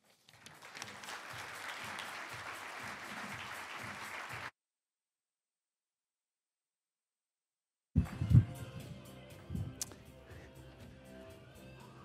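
An audience applauding as speaker Jeff Simmons is welcomed, a steady wash of clapping for about four seconds, then a silent gap, followed by louder thumps and room noise.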